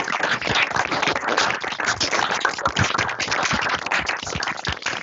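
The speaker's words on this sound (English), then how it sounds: "maybe we can unmute and then applaud John for a couple of seconds" An online audience applauds speaker John Fullerton at a Purpose Campus College session, a dense, steady wash of many hands clapping together for about five seconds without talk.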